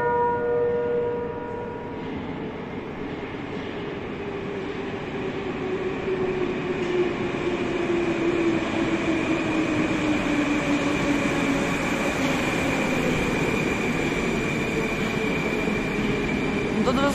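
A Moscow metro train on the Big Circle Line runs through the tunnel with a steady loud rumble and rising whine, its pitch sliding as it moves, with a long tonal hum over the rolling noise.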